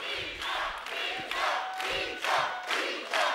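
A studio audience on a Bulgarian TV music show cheers and claps for the singer, the crowd noise rising in repeated loud swells with shouts over a steady wash of applause.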